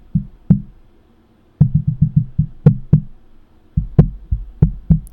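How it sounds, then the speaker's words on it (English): A microphone boom arm on a Fifine Tank 6 mic is bumped: dull, low thumps knock in irregular bursts, several in quick succession, with a few sharper clacks ringing higher; a short silent gap falls between groups. "if you were to bump your boom arm, this is the sound you might hear doing so"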